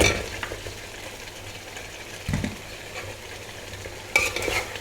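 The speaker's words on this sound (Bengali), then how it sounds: "ভাজা রোস্টগুলো দিয়ে দিব" Fried roast pieces stirred into a masala of yogurt, milk powder, nut paste, onion and green chili, a soft continuous sizzle with spoon scrapes and a couple of louder stirring bursts, close by.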